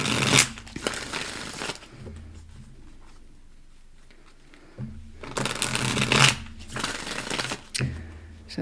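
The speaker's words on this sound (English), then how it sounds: "Let's give these a couple more shuffles." Tarot cards are shuffled in two loud riffling bursts separated by a quieter pause with soft handling noise, close by.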